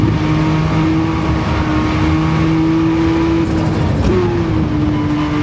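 Loud engine of a 1983 Porsche 956 race car droning at steady pitch on the Nürburgring, then a brief blip and drop in revs as it shifts down from third to second gear, continuing at high volume.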